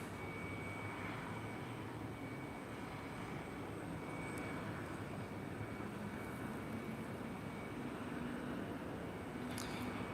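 A Delta Airbus A321neo airliner at Minneapolis–Saint Paul airport in winter, a steady distant jet engine roar held at an even level, with a faint whine throughout.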